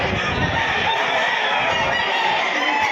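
Roosters crow continuously at a poultry sale, several birds calling loudly and overlapping with clucking fowl around them, with no talking heard.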